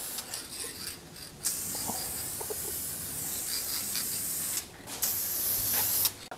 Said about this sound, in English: a real light coat of polyurethane on it as the first coat